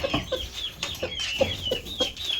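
Rooster clucking in short, repeated bursts, close and fairly loud, over a steady background hiss with a faint thin whine throughout.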